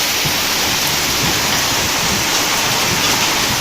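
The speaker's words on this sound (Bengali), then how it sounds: "এই যে দেখো, অনেকটা জোরে বৃষ্টি পড়ছে।" Heavy rain pours down on a courtyard in a dense, loud, unbroken roar of falling water that fills the whole stretch, with no voices heard.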